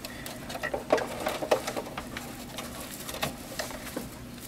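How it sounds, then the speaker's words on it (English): A sewing machine stitching into the corner of a fabric potholder gives a quiet, uneven run of light mechanical ticks and patter, with short pauses between bursts of stitching. "I'm going to sew into the corner."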